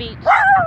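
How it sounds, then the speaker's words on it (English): A dog gives a short yip or bark, close and fairly loud, right after a brief spoken word, while the owner waits outside a Staples store. "That's my dog."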